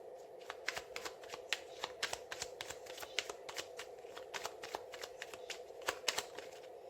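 Tarot cards are shuffled and laid out in quick, rapid riffling flicks, a dense quiet stream of crisp snaps that carries on steadily from start to finish.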